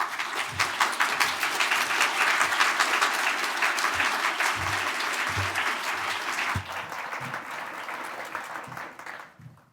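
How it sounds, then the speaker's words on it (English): An audience at a conference session claps loudly and continuously, with a few heavier thumps mixed in, then the applause thins out and fades to quiet. "Good to see we finally held that applause to the end."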